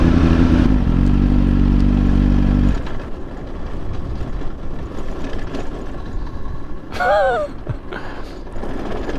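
A motorcycle engine drones loudly at first, then cuts to a rougher, quieter running rumble with clattering and a brief whining squeal.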